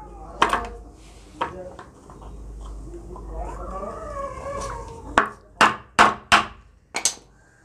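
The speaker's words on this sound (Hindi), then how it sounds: "ये हमारे पास सुआ है बर्फ़ फोड़ने का, हम इससे ही इसमें दो छेद कर रहे हैं" An ice pick punches two holes in the thin plastic pipe of a cheap air pump: sharp woody taps, two early and then a quick run of five near, loud knocks, with a faint voice in between.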